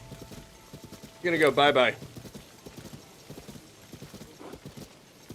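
Horse hooves clip-clop steadily through the Zelda: Tears of the Kingdom game world, a soft rhythmic patter of steps running throughout, briefly interrupted by someone talking over it.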